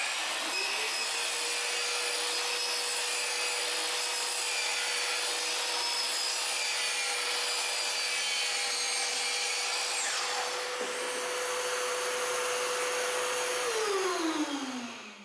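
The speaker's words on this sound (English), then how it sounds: "The miters were cut on a compound miter saw." A compound miter saw spins up to a steady high whine and runs through miter cuts in rosewood for a box, then winds down near the end, close and continuous with no talking.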